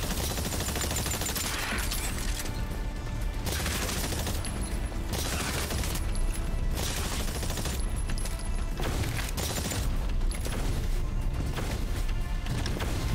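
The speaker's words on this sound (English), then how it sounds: "You will now participate in a live fire exercise." The Deadeye exosuit fires sustained automatic gunfire during a live fire exercise in Exoprimal, a dense, loud, unbroken stream of shots with occasional booming impacts layered over game noise.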